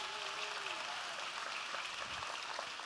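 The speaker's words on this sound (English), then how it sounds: "Y'all give Jesse a round of applause." Audience applause at a tech company conference, a steady wash of clapping from a crowd sustained for a few seconds without a break.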